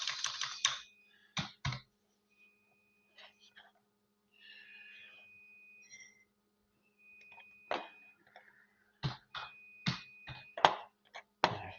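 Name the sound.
typing on a computer keyboard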